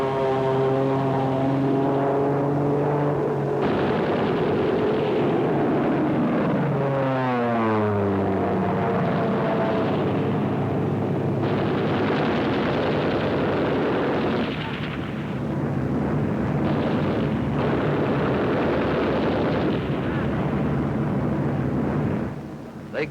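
A P-51 Mustang dives to strafe German targets, its engine pitch sweeping down sharply as it passes, followed by loud rumbling blasts of gunfire and explosions under a continuous roar.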